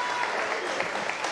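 Audience applauds the band's keyboardist during a live concert introduction, a steady dense wash of clapping from a crowd, loud and continuous throughout.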